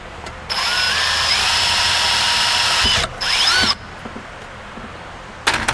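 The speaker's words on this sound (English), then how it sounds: "Let's go ahead and drill a 1/8 inch pilot." Power drill boring a 1/8 inch pilot hole into an aluminum AN fitting on a lathe, a loud steady whine for about three seconds, a brief pause, a second short burst, then quiet with a final spin-up.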